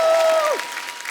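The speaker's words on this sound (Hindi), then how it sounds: "तो एक बार अक्षय बाजी और परिणीति के लिए जोरदार तालियां हो जाए।" Studio audience applause on a comedy talk show, a short loud burst of clapping that fades quickly under a fading tone.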